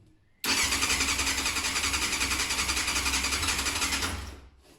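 A 1990 Yamaha FZR600 barn-find motorcycle cranks over on the starter in neutral, with a sudden loud onset, then steady rapid rhythmic churning close by, without catching, before it stops.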